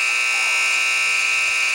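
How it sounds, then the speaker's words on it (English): A loud electronic buzzer in a basketball gym at a girls' freshman game drones steadily at one harsh pitch for the whole short stretch, with no talk over it. "Joe, go fix the buzzer over there."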